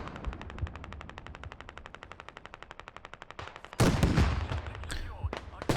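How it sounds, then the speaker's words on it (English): A minigun fires in a video game battle as a fast, even stream of rounds that runs for several seconds. A louder, denser burst of gunfire then cuts in and fades. "Minigun for WPMC's firing off."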